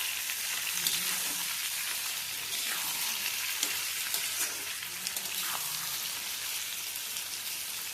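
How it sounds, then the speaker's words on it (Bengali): Pointed gourd (potol) frying in hot oil while being stirred, a steady close sizzle that runs the whole time, with occasional soft scrapes and clinks from stirring. "বাট আমি একটুখানি পটলগুলোকে তেলে নেড়ে নিই"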